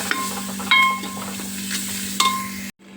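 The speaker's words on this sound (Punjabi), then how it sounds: "ਆਪਣਾ ਭੁੱਜ ਗਿਆ ਸੀ ਤੜਕਾ" Tadka tempering for a chickpea dish frying in a pot at home, a steady close sizzle with a few sharper spitting bursts before cutting off abruptly near the end.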